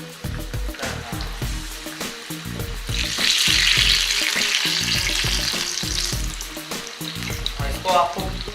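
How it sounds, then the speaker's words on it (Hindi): Kadhi pakoras dropped into hot oil, a loud bubbling sizzle swelling after a few seconds amid repeated low clunks of a spoon against the pan, close and continuous. "गर्म हो चुका है, तो मैं इसको पकौड़े को डाल देता हूँ।"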